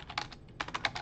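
Quick, soft taps on a computer keyboard, a short burst of several keystrokes in uneven rhythm, close and quiet, with no talking.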